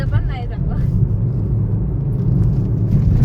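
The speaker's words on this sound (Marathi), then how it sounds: "हे ट्रॅफिक बघा" Heavy road traffic during the Diwali holiday produces a dense, continuous low rumble of cars and buses, with voices speaking over it.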